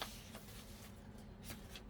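Paper being handled and shuffled while collage materials for junk journaling are sorted, producing soft rustling and crinkling in close, quiet bursts with no talk.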